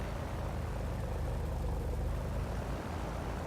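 Steady, droning roar of a P-51D Mustang's propeller engine in the DCS flight simulator, dense and unbroken throughout, heard from inside the cockpit.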